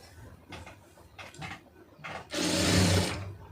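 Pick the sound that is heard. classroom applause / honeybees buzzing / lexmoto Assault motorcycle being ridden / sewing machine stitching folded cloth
sewing machine stitching folded cloth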